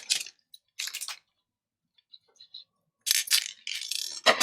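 Scissors snipping through a fraying fabric braid trimmed with little beads: a few short, crisp cutting bursts separated by quiet gaps, with faint small clicks between, close and moderately loud.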